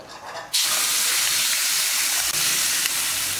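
Braised lamb chops go back into a hot wok and a loud, bright sizzle bursts out suddenly. The frying hiss then carries on steadily to the end.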